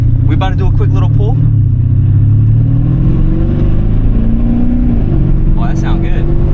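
Mercedes CLS550 or S550 engine accelerating hard on a quick pull, a loud, steady low drone rising in pitch under heavy wind noise, with people talking over it at the start and end.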